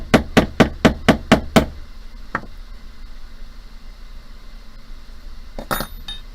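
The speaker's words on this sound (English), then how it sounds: "Oh yes, hammer, hammer." Hammer planishing a soldered metal toggle charm: seven quick, evenly spaced sharp metallic taps close by, then one lone tap and a final pair of strikes after a pause.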